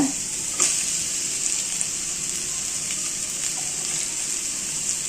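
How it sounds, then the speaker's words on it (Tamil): Chopped cabbage, beans and carrot fry steadily in a pan for a vegetable pasta, giving a close, continuous hissing sizzle with faint stirring clicks and no talk. "நம்ம கோஸு பீன்ஸு கேரட்டு இதுதான் கொஞ்சம் நல்லா ஃப்ரை ஆகணும்"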